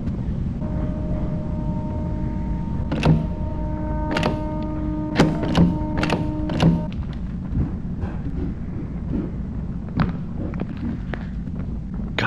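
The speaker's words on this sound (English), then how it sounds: "Somebody's shutting doors on me." Doors thudding shut in a horror video game, several hollow knocks and bangs at irregular intervals over a droning, rumbling ambient background, with faint tonal game sounds mixed in.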